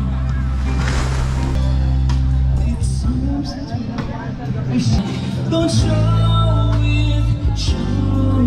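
Ocean waves roll steadily onto a beach at Agwawan in Mariveles, Bataan, a continuous low surf wash with wind noise on the microphone, while people talk and sing over it.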